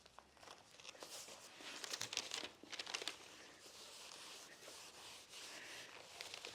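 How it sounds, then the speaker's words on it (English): Self-adhesive backing being peeled off a sheet during a simple shadow box woodworking build: soft crinkling and tearing rustles at close range, bursts of louder crackle between quieter stretches of rubbing, with no voices. "take the self-adhesive backing off on one side like this"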